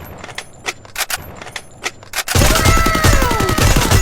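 Gunfire in the mobile video game Free Fire: a few sharp, separate shots and clicks give way to a dense, loud burst of rapid automatic fire that continues to the end.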